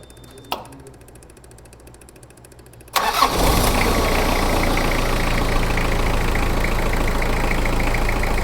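A Gypsy jeep's engine cranks and fires at about three seconds after near silence with one sharp knock, then settles into a loud, steady idle close by that holds to the end.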